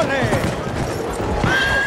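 A horse in the video game Battlefield 1 whinnies over rapid clip-clopping hooves at a gallop, loud and close, with game noise and someone talking over it.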